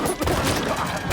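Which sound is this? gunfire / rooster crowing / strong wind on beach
gunfire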